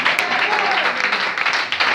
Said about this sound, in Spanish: Denle fuerte la ofrenda de aplauso al Señor.